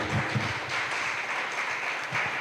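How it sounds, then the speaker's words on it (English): A youth summit audience breaks into a round of applause, a dense, even patter of many hands clapping at moderate distance for a couple of seconds. "a round of applause for him"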